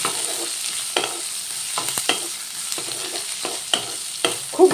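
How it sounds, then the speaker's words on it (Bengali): Cumin, dried chilli, garlic cloves and chopped onion frying in hot oil, a soft steady sizzle punctuated by regular spatula stirring strokes, close and unaccompanied by speech. "এবার সব কিছু ভালো করে ভেজে নেব"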